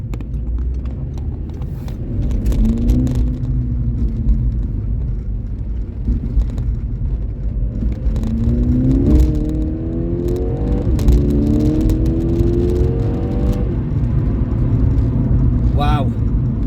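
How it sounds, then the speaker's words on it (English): A SEAT Ibiza Cupra with 145,000 miles accelerates hard, its engine roaring and climbing through rising revs with gear changes, heard loud from inside the car under a steady road rumble while someone talks. "it really does take off, does this car"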